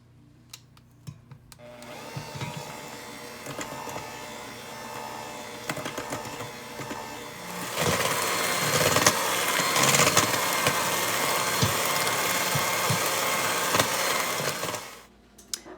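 Electric mixer beating cake batter for lamingtons, a steady close whirring drone that runs for several seconds, growing louder midway, then cuts off near the end.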